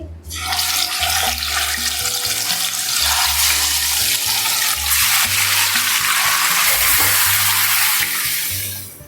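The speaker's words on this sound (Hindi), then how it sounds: "अब इसी ऑयल में मैं मैरिनेशन जो मैरिनेट करके हमने चिकन रखा था ये डाल देंगे" Marinated chicken goes into hot oil left from frying onions for a white chicken korma, giving a steady, loud, broadband sizzle that holds for the whole stretch without talk.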